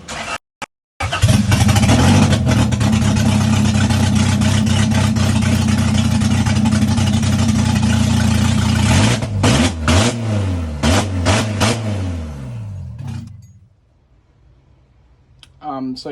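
A turbocharged Honda F20B engine cranks, catches and runs a bit rough, holding a loud steady roar before rising and falling revs, then settles down to a quieter idle.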